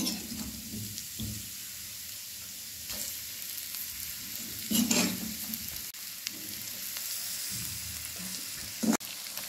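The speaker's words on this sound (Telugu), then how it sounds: "1 నిమిషం వేగిపోయిన వెంటనే మగ్గించుకున్న పనస ముక్కలు వేసేసుకోవాలండి" Steamed jackfruit pieces tossed into oil with spices for biryani, a low continuous sizzle with a few clanks and scrapes of stirring, one louder burst near the middle and a sharp knock near the end.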